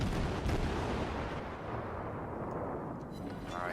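Russian destroyer guns firing in World of Warships, a loud rumbling burst of cannon fire that fills the clip and slowly trails off.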